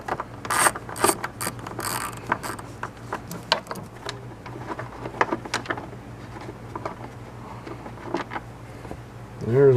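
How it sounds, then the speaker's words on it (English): A Pittsburgh 1/4-inch ratchet works a fastener during fan and shroud removal on a 2004 Jeep Liberty, giving bursts of rapid close clicking with short pauses between strokes, and someone speaks briefly near the end. "I just got my new, to me, Pittsburgh ratchet, 1/4 inch ratchet here."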